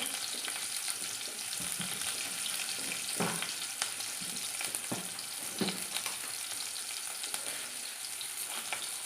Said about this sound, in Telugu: పోపు గింజలు వేసానండి.